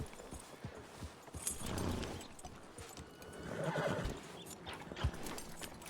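Horse whinnying with clip-clopping hooves in the Red Dead Redemption 2 video game, a brown horse named Violet at a ranch stable; a loud neigh rises midway over steady hoof steps and ambient game noise.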